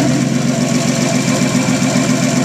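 A car engine idles loudly with its exhaust running open ahead of the catalytic converter, a steady close-up drone with an even low pulsing throb throughout.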